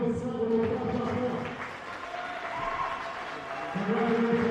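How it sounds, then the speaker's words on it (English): Audience applause for the champion at a Canadian national speed championship event, a steady spread of clapping that swells and eases over several seconds, with an announcer's voice talking over it. "Une bonne applaudissement pour le grand champion."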